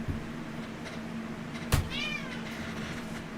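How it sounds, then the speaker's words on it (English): Muffin the cat gives a single clear, close meow in the middle of a quiet indoor room, with steady low background hum and no talking. "meow, meow, yes, I know"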